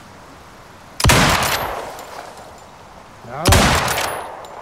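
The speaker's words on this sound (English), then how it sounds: "Let's test this rifle out." Rifle gunfire in the survival game Icarus, with two sharp, loud shots about two seconds apart, each trailing off in a long echoing decay. A voice says a brief word between them.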